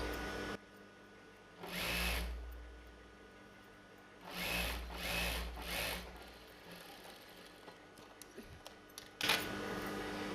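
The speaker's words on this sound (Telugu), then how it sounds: "ఇలాగా మనం మడుచుకొని ఈవెన్గా మనం స్టిచ్ చేసుకుంటూ వస్తాము." A sewing machine stitching the folded hem of a chudidar sleeve, running in several short whirring bursts separated by pauses, close and fairly quiet.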